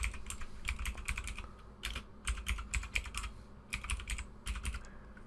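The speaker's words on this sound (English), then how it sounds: "you can come down here and type Windows PowerShell" Fingers type on a computer keyboard in quick clusters of close, crisp keystrokes with short gaps between bursts.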